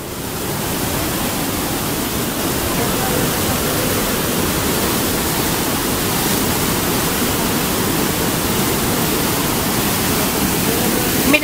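The river rushing through the Magdalena strait, a loud, continuous roar of turbulent water heard close by and steady for the whole stretch.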